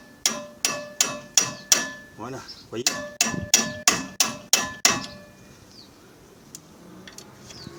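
A hammer strikes an impact screwdriver while a rear wheel bearing is replaced, about a dozen sharp metallic blows in two quick rhythmic bursts, close and loud, with brief speech in between and quieter handling after.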